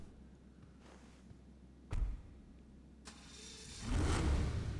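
A True Fade Thrax supercar in GTA V starts up, with low engine rumble, a sharp thump, then a rising rev swelling loud toward the end.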